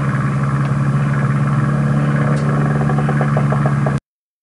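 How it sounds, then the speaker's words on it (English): Steady biplane engine drone in the 1994 Wings of Glory flight game, a loud continuous hum with a strong low tone and clattering overtones, alone with no talk. "allows you to hear the drone of your engine and the creak of canvas."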